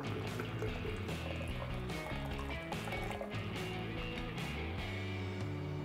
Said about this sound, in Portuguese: você também pode adicionar um pouco d'água